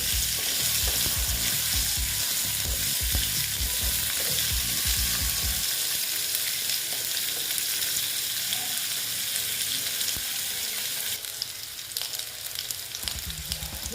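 Drumstick stems (katoa data) fry in a pan for a vegetarian dish while a spoon stirs them. A loud, steady sizzle runs throughout, with busy stirring strokes early on and a brighter burst of sizzling near the end. No one speaks.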